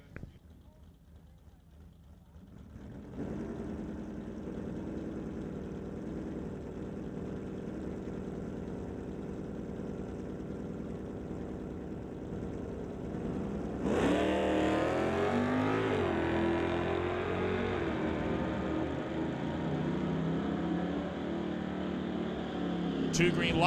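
A Chevrolet Malibu and a Corvette in Sportsman drag racing at Mission Raceway, engines rumbling steadily before a sudden loud surge of revving and acceleration, with an announcer talking over them.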